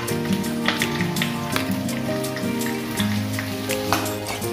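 Grated carrots and beans fry in a pan for chicken fried rice, giving a steady, dense crackling sizzle with continuous popping throughout.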